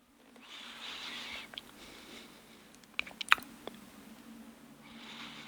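Soft, close chewing of the last bite of a KFC chicken burger, quiet mouth sounds with a few sharper bites and squishes near the middle, with no talk.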